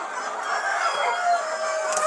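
Desi chickens clucking and squawking together in a busy coop chorus, a rooster's crow rising among them, steady and fairly loud.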